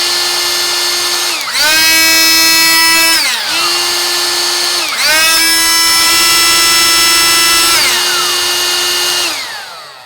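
A new 2024 Ryobi cordless inflator blower runs loud and close in three bursts, each starting with a rising whine, holding a steady piercing motor pitch and then winding down.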